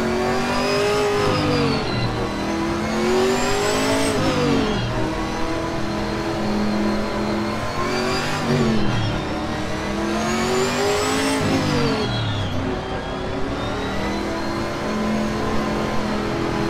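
A Camaro GT4 race car in the video game Assetto Corsa Competizione, its engine loud and close, revving up through the gears in repeated rising sweeps, each ending in a sharp drop as it shifts or lifts off.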